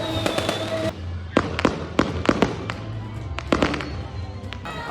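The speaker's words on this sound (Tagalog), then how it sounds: "Pero lalo pang namangha ang mga manonood sa engranding fireworks display." A fireworks display at a Christmas lighting event in Pugo, La Union, bursts in a rapid, irregular string of sharp cracks and pops against a continuous crowd-and-crackle background.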